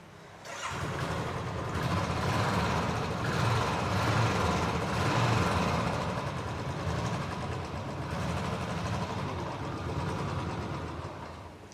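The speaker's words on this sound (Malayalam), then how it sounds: "റോയൽ എൻഫീൽഡ് ഐഡന്റിറ്റി എന്ന് പറഞ്ഞ സൗണ്ട് നമുക്ക് ലഭിക്കാം" A used Royal Enfield motorcycle with low mileage idles after starting, producing a steady, close thumping exhaust rumble that holds evenly for several seconds with no talking.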